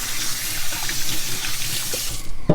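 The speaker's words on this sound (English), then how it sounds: "So I'll just rinse off my hands again" Tap water runs steadily into a kitchen sink while hands are rinsed under it, a continuous close splashing hiss for a couple of seconds, ending with a brief clunk as the flow is cut.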